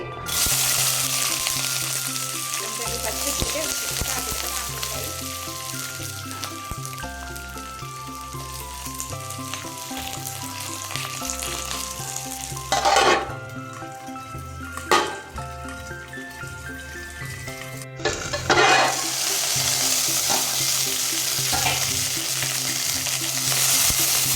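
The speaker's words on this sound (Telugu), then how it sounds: "పచ్చిమిర్చి అయితే వేగిపోయాయండి" Green chilies fry in hot oil in a pan, a continuous close sizzle with occasional spatula stirs and two louder bursts of spitting crackle, no voices.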